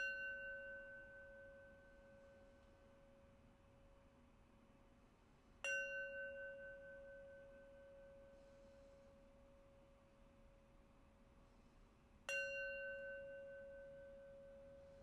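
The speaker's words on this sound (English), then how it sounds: "And I'll close our practice with 3 rings of the bell." Meditation bell struck three times, each a clear ringing tone that decays slowly into near silence before the next strike, quiet and alone in a still room.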